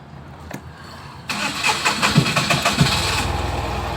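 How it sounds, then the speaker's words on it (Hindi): A Tata Ace Gold mini truck's diesel engine cranks with a few starter turns, then catches and settles into a loud, steady idle close by. "गाड़ी तो कर दी हमने स्टार्ट।"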